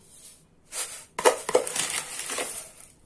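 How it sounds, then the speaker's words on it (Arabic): Granular crunching and rustling of three cups of sugar being poured into a tray in a few bursts, close by, with short pauses between pours. "انا هحط 3 كوبايات سكر"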